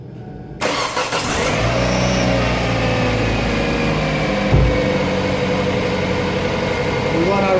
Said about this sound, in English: Gonna start the vehicle.